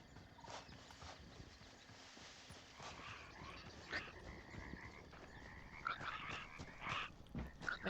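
Frogs croak in Hytale, a block-building game, several calls scattered over a quiet ambient bed, some near and some softer, with no talking.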